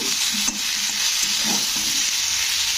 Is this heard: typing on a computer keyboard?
no